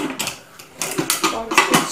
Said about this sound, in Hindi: कुकर का ढक्कन हम बंद कर देंगे